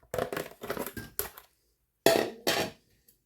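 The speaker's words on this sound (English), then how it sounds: "This bone we're just going to put right into the crock pot" A leftover rotisserie chicken bone dumped into a crock pot, with a rapid run of clattering, crunchy knocks, a short pause, then two more heavy clunks, fairly close.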